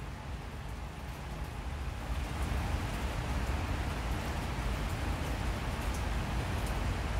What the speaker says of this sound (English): I'm sitting here blabbering so you don't have to listen to the rain